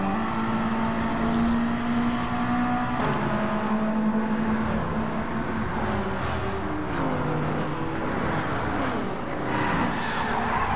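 A race car in a racing video game gets wrecked and spins out on a straightaway, its engine droning steadily with a tonal whine that bends in pitch as the car slides, loud and continuous throughout.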